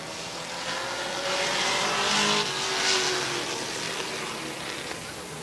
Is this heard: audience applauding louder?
no